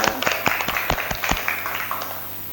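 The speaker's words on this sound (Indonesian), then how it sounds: "tepuk tangan" Students in a classroom clap together, a short rapid burst of hand claps, fairly close and loud, fading slightly toward the end.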